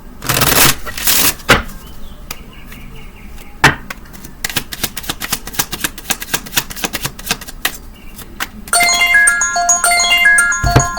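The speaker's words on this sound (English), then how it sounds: "Hold on, my phone's ringing." A phone ringtone comes in near the end as a bright repeating melodic trill, following a stretch of sharp tapping and clicking sounds.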